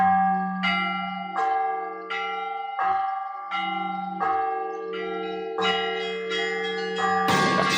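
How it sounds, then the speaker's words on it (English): Small hand bells struck one after another in a slow, uneven sequence, each clear ringing tone sustaining and overlapping the next, close and fairly loud, ending in a brighter jangle. "haven't seen you doing these kind of bells"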